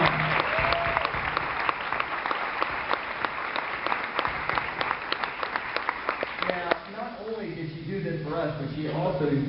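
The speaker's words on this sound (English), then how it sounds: "I'd like to put a round of applause for the woman who put this together" An indoor audience at a success-themed talk gives a round of applause for a woman, a dense burst of many hands clapping that stops abruptly, after which a voice speaks.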